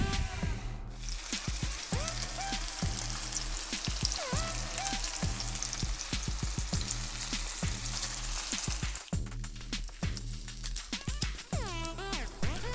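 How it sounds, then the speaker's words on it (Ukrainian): Marinated chicken wings sizzle over the coals of a mangal grill, a steady, close frying hiss that runs the whole time with rhythmic thumping and tonal sounds underneath. "Замариновані крила відправляємо на мангал і обсмажуємо."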